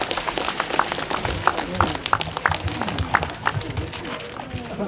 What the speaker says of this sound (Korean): 나오실 때 큰 박수 맞아주시기 바랍니다